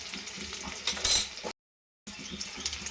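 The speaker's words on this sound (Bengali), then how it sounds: "ডিমটা কিন্তু এখন নাড়াচাড়া দিয়ে আমি ভেজে নিচ্ছি" An egg seasoned with salt and chilli powder frying in a pan for a Bengali egg and potato curry, sizzling steadily while a utensil stirs and scrapes, with a louder flare of sizzle and a brief dropout in the middle.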